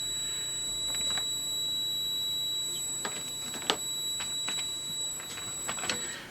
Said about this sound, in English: I've got it set to beep so you'll hear it if it goes off.